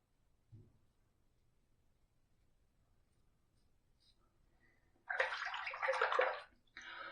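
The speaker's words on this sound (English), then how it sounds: "First pass done, let's rinse." Water runs from a tap as a safety razor is rinsed, a brief tap near the start, then a few seconds of steady splashing flow that stops and starts again, fairly quiet overall.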